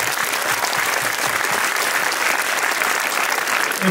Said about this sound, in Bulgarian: За Ники силни аплодисменти.